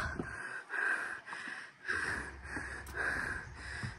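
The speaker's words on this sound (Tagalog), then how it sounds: "Hingal kabayo na ako." Heavy, ragged panting from a person worn out after climbing a long stairway at a farm, with loud rhythmic breaths and wheezy snorting exhales, close and clear with no talking.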